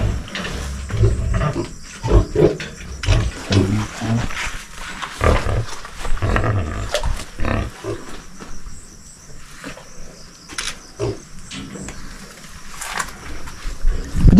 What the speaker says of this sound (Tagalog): Kitang baboy yan eh.